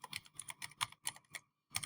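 Quick bursts of computer keyboard typing as a number is entered into spare-parts shop software, light clicky keystrokes in an irregular rhythm with a short pause near the end, fairly quiet and close.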